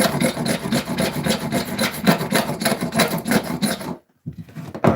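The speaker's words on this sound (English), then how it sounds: "I'll try the scraper again now, and we'll see what kind of effect that has." A hand scraper rasps off a stubborn top layer in quick, rhythmic back-and-forth strokes. The scraping is close and loud, then breaks off briefly near the end before resuming.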